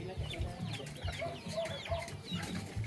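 Chickens cluck close by in a rural Philippine garden, a run of short, irregular clucks and squawks over low background noise.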